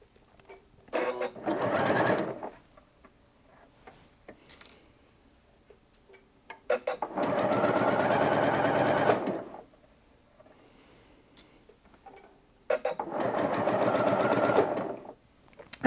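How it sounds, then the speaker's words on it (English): A Janome Atelier 7 Anniversary Edition sewing machine stitches two layers of striped fabric, running in three loud, steady motor-driven bursts with quiet clicks and handling noises between them. "So let's go ahead and stitch this stripy fabric."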